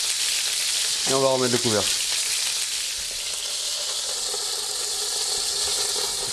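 Chicken paupiettes sizzle loudly and steadily in a hot pan. A voice briefly speaks over the frying near the start, and the hiss then carries on alone.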